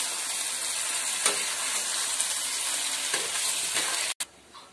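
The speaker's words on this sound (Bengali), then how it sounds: "মাংসটা কিছুক্ষণ কষতে দেব।" Marinated meat fries in a kadai over fried onions, making a dense, continuous sizzle with a few soft stirring scrapes, close and loud until it cuts off abruptly near the end, followed by a quieter tail.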